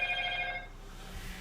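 An old mobile phone goes off nearby, a brief electronic ringing of stacked tones lasting about half a second, then fading into quiet room noise.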